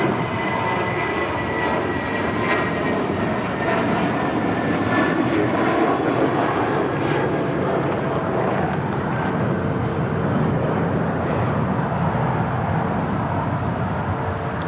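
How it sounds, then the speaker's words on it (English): JetBlue Airbus A320 departing LAX, a steady, broadband jet engine roar holding at moderate distance throughout, with faint traffic noise beneath. "That was JetBlue, an A320, headed out to Las Vegas, flight 1180."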